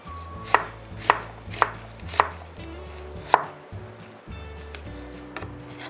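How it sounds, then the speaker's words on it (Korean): A knife slices a single green onion diagonally on a cutting board while preparing braised hairtail fish, giving about six crisp, evenly spaced chops, loud and close, followed by quieter handling noises. "파는 어슷어서 이렇게 썰어주세요"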